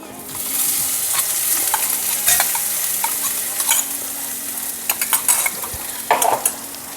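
Sicklepod leaf thoran stir-fried with crushed coconut, shallots, dried red chilli and turmeric gives a steady, close sizzle throughout, broken by scraping stirs and brief clinks of the spoon against the pan.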